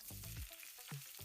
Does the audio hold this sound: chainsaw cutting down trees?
no